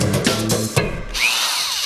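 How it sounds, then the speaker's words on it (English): A cordless driver whirs in short close bursts, its motor spinning up and winding down several times in under two seconds, loud and alone. "Using a cordless driver without a charge."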